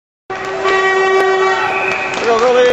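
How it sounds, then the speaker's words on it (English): A loud, sustained air horn blasts at an ice hockey game between the Kings and Les Aigles, holding a steady, harmonically rich tone for nearly three seconds with a slight pitch shift near the end. "What a horn blower."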